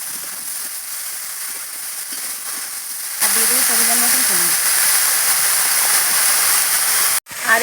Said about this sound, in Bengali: এবার কুচোনো আলু বেগুনগুলো আমি দিয়ে দেবো